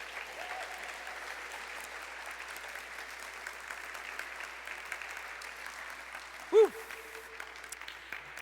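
Soft, distant applause rolls on steadily through a church service, with a brief high vocal cry rising above it near the end.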